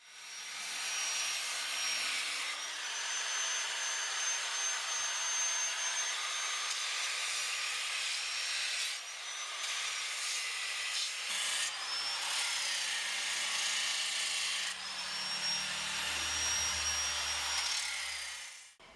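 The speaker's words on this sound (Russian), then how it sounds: "можем использовать угловую шлифмашинку" An angle grinder smooths the inside of an oak barrel, a loud continuous whining abrasive rub with a few brief dips as the tool shifts across the wood, close up with no talking.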